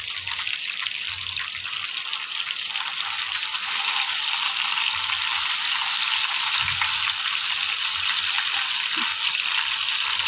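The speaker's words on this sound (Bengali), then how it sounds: "চিংড়ি মাছ রান্না করছি, আলু আর ঢেঁড়স দিয়ে" Shrimp frying with potato and okra, a steady loud sizzle and hiss that holds throughout without a break.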